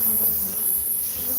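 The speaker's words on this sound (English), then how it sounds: "these bees are lighting up" Bees swarm around a shed in a neighborhood, their buzzing a close, continuous drone with a few louder swells as individual insects pass near, no talk over it.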